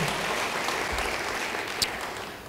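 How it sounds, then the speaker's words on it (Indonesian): A church congregation applauds steadily throughout, a dense wash of clapping at moderate volume with no voices breaking through. "Beri tepuk tangan yang baik bagi dia."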